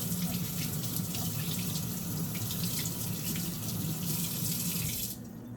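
A kitchen tap runs in a steady, close rush of water while raw fish is rinsed for sashimi, then cuts off abruptly near the end.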